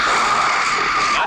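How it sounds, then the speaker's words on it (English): An angry bull gorilla roars in a film sound effect: one harsh, loud, sustained bellow with a raspy, screaming edge lasting just over a second, heard alone. "That's the sound of an angry bull gorilla."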